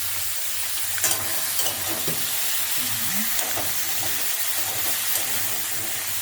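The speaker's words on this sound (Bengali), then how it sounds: "কড়ার মধ্যে দিয়ে এটা আমি ভালো করে ভেজে নেব।" Cauliflower and potato pieces frying in oil in a kadai for a Bengali bati chorchori, a steady close sizzle with a few soft scrapes of stirring throughout, no voices.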